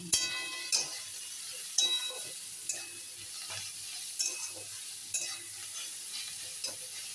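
A vegetable curry fries in a pan while a spoon stirs it, with a soft continuous sizzle and regular scraping knocks every second or so, close and moderately quiet.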